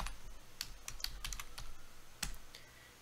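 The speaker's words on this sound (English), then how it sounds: "So all we have to do is type it in." Quiet typing of an IP address on a computer keyboard for a Raspberry Pi, a run of irregular close key clicks with a firmer tap near the end, no talk.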